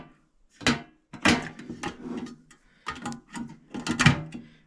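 Lid of a small US General or Kobalt mini tool box opening, with a series of close, sharp clunks and rattling knocks of metal spread across a few seconds.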